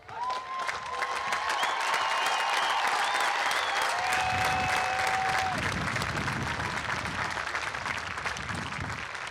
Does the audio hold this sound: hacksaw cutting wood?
no